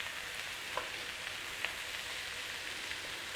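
Potatoes and garlic fry in a pan with a soft, even sizzle that runs without a break, broken by a few faint pops and a small clink at the end, with no talking.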